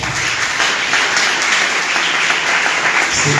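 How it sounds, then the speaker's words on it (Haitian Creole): A congregation bursts into sustained applause in church, a loud, even roar of many hands clapping at once that stays steady throughout, with no break or talking over it. "Nous applaudissons encore."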